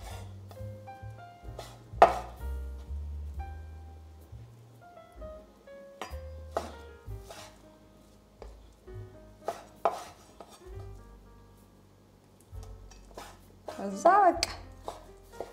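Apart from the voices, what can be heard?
meat being finely chopped with a knife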